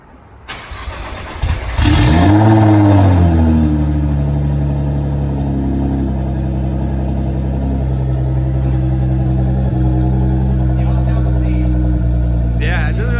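A twin-turbo Honda S2000 engine fires up with a loud rising sweep and settles into a steady, throaty run through its 4-inch exhaust tips, close by, with people talking over it.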